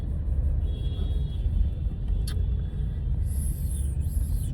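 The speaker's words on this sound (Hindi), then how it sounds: "ट्रैफिक, बहुत ज़्यादा ट्रैफिक होता है यहाँ ना, होमलैंड के पास बहुत ज़्यादा ट्रैफिक होता है।" Steady low road rumble of heavy traffic near Homeland, cars and a mini truck passing continuously close by with a brief hiss midway, no talk.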